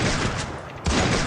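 Gunfire from the Free Fire battle royale game comes as a loud, dense burst of rapid shots, then a brief dip and a renewed blast of fire, filling the whole short moment.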